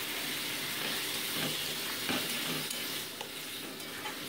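Masala paste and peas being sautéed and stirred in a pan for egg curry, a soft, steady sizzle with faint scraping strokes, quiet and close.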